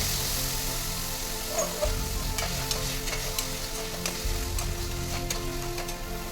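Garlic and onions frying in hot oil for a potato curry, a steady close sizzle with occasional light spoon taps and stirring scrapes, no voices.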